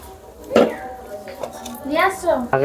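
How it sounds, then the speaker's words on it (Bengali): A metal lid set down on a pot resting on a stand over hot sand for baking a vegetarian cake, a single clear clink amid light kitchen clatter, with someone talking throughout. "এ হচ্ছে ঢাকনা দিয়ে দিলাম"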